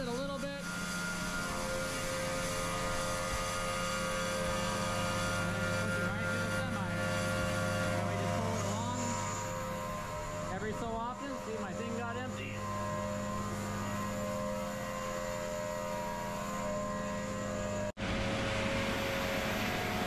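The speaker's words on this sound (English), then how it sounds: "But all it is sucking out all the oats out of the bin. Instead of us shoveling it, it just sucks it right out." Grain vacuum with its hose sucking oats out of a granary bin, a loud continuous droning roar with a rushing, rattling flow of grain, steady throughout and cut off briefly near the end.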